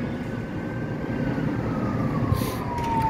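Emergency vehicle siren wailing across a city in the early morning, a long sweeping tone carried at a distance over steady traffic rumble, with no voices.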